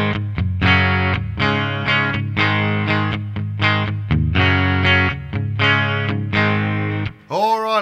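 Electric guitar played through an MXR Distortion+ pedal set at about halfway, into an amp such as a Boss Katana or Marshall Astoria, with loud, gritty distorted chords in a choppy rhythmic pattern ending in a brief bending squeal.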